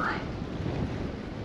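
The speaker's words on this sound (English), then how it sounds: "Man, it's windy out here." Wind blows hard across the microphone outdoors by a lake at an RV campground in Texas, a steady loud rumbling rush that fills the whole moment.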